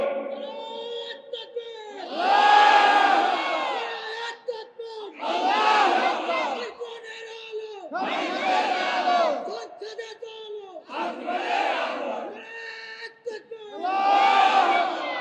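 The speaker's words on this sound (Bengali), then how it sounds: "এই মর্দে মুজাহিদ আল্লাহর বান্দারা একজন তাকবীর দিবে, দেন তাকবীর।" A large crowd at a Bengali religious sermon answers a preacher with repeated loud takbir chants, several roaring waves of voices separated by brief pauses.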